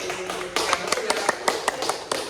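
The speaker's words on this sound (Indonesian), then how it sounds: "Beri aplaus lagi." A small audience in a classroom-style setting claps briefly, with a string of sharp, evenly spaced hand claps standing out over a steady background murmur.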